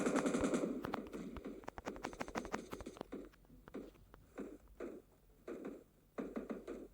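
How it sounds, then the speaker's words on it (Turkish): Gunfire from a firefight in the mobile shooter PUBG Mobile Lite: a rapid automatic burst at the start gives way to scattered, sharper single shots and short volleys, moderately loud and irregular. "Şu tarafta hala adamlar çatışıyor."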